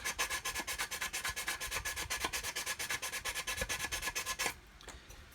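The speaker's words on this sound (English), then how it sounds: "So I'm just going to sand" Sandpaper rubs on a plastic part of an Airfix 1/72 scale Vulcan model kit in fast, even back-and-forth strokes, a close raspy scratching that runs steadily for several seconds and then stops.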